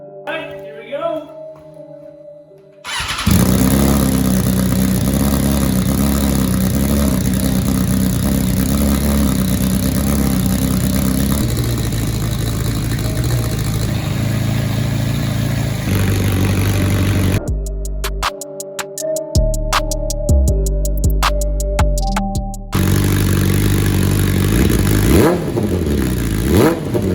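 A 2021 BMW S1000RR M motorcycle engine fires up after a short quiet moment, then runs loud and steady close by. A brief stuttering rev pattern breaks in midway before the engine settles again.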